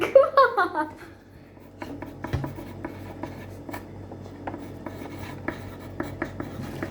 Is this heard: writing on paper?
yes